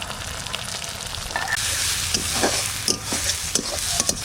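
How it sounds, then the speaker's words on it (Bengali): Steady sizzling of onions frying in a hot pan with cumin, coriander and dried red chillies added, occasional stirring scrapes and crackles, close up and no talking. "পেঁয়াজটা ভাজা ভাজা হয়ে গেছে এবার বাকি মশলাগুলো দিয়ে দিচ্ছি"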